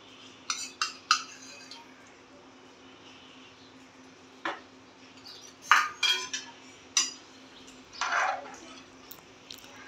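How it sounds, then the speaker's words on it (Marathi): A spoon clinks and scrapes against a metal pot while masala rice is stirred, with sparse sharp metallic taps in irregular bursts over a quiet background. "परत एकदा भात सगळा छान ढवळून घेते आहे"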